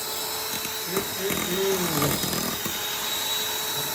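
An electric whisk beats chocolate amaretto cake batter with a steady high whirring drone, the tone shifting slightly as it moves through the bowl, while people talk over it.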